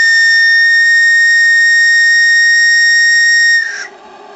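A homemade live steam whistle blows one long, loud, steady multi-tone blast for several seconds, then cuts off abruptly, leaving a faint hiss of escaping steam.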